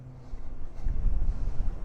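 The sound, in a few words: strong wind on a tower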